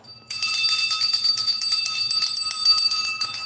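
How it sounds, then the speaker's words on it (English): A small handheld bell rings rapidly and continuously at close range, a dense bright jingle of repeated strikes with a steady shimmering tone and no speech. "Get yourself a bell."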